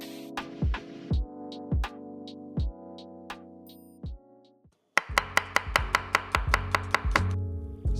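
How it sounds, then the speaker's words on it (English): A knife mincing garlic on a cutting board gives sparse, separate chops that turn into a fast, close, steady run of sharp taps, with no talking. "Start by mincing garlic."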